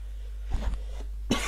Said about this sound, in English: Sorry, had to cough.